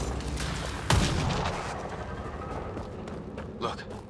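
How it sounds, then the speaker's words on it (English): A single sharp gunshot fired at a busted fuel cell in the video game Mass Effect Andromeda, with a booming low tail that fades under an ongoing game soundscape and voices. "Take a shot at that fuel cell"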